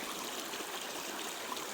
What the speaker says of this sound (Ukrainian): що нижче тече, це струмок